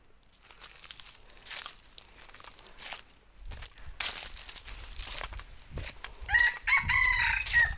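A decoy rooster crows repeatedly with rough cock-a-doodle-doo calls and clucks, close by outdoors, mixed with crinkling and rustling handling noises.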